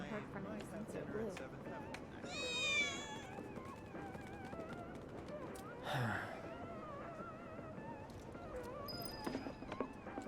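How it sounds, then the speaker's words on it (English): A cat meows in Final Fantasy VII Remake, with a drawn-out, wavering call standing out over game music and speech-like voices, plus a shorter cry later. "Você avistou um gato"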